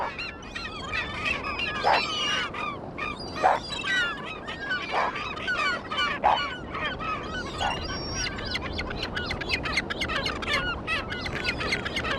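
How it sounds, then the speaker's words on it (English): A flock of birds on an elephant seal beach calls constantly, with overlapping honking and squawking cries over a dense, steady background of chatter. "At the slightest unrest, hordes of birds arrive and play their part as cleaners."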